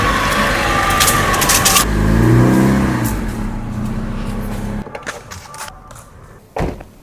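A car engine runs steadily while the vehicle drives, with a swelling rev around the middle, then the sound thins to quieter road noise and a few brief knocks near the end.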